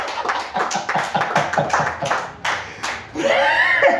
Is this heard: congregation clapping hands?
yes